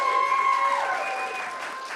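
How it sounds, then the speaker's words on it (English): A pitch competition audience cheers and applauds in a steady, dense wash of clapping and shouts, with a few sustained whoops riding on top, fading slightly toward the end. "let's cheer really loudly"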